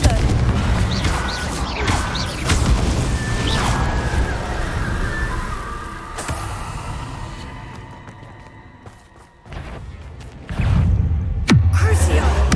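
Confringo fire blast spell cast in Hogwarts Legacy, loud crashing impacts and booming bursts amid game sound effects, with a speaking voice partway through.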